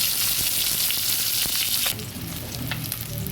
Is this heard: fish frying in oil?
yes